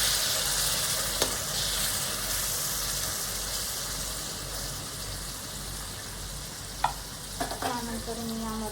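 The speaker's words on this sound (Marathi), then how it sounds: "आणि मी आता याच्यामध्ये बारीक चिरलेले मी 2 टोमॅटो ॲड करते।" Two finely chopped tomatoes drop into a pan of golden-brown fried ginger, garlic and onion, bringing a steady close sizzle with occasional stirring clinks and scrapes of a utensil against the pan.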